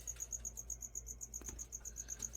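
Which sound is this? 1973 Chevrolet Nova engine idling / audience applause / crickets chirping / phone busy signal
crickets chirping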